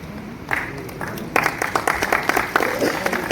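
An audience at an official scholarship event breaks into applause, with scattered claps building into a brief burst of clapping.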